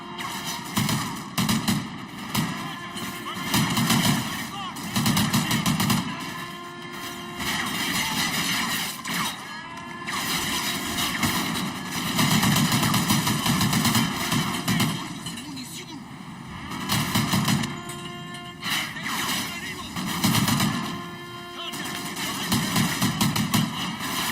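Sustained, dense gunfire from the Call of Duty Ghosts video game fills the whole stretch with near-continuous bursts, mixed with engine-like rumble and battle noise under talking voices.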